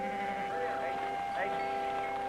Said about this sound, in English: Sheep. In the spring and fall, a herd comes through almost every day.